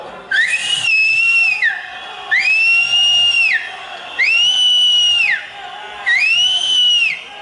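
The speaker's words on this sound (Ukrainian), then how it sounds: "Товариство, ну давайте разом посвистимо." A crowd at a protest rally whistles shrilly together in four long, loud blasts, each lasting over a second with short pauses between.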